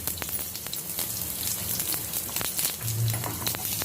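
Finely chopped garlic and curry leaves fry in hot oil, giving a steady close sizzle with scattered crackles and pops and no talking.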